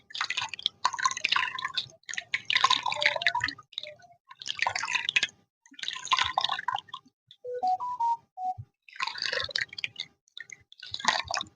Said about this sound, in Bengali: এইভাবে চেপে চেপে জল বের করে নিতে হবে, একটুও জল থাকলে হবে না।